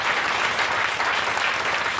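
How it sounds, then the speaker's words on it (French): A church congregation applauding during an evening service, a dense, loud, steady wash of clapping that fills the whole moment. "Acclame pour Jésus."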